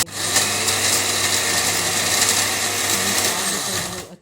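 An electric spice grinder whirs loudly and steadily as it grinds garam masala spices, a dense buzzing hum with rattling from the spices inside, running evenly before cutting off abruptly near the end.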